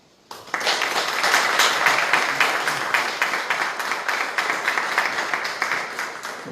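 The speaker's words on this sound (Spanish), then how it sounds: "Aplauso para el doctor Ignacio Martínez Laguna" Sustained audience applause at the inauguration of a national and international writers' gathering, rising abruptly after a brief quiet start into dense, steady clapping from a large crowd in a hall that slowly eases off.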